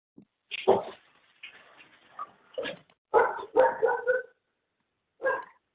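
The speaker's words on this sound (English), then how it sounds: "we have a friendly dog in the background" A friendly dog barks in the background, a series of separate woofs and short yips with gaps between them, fairly clear and not covered by any talking.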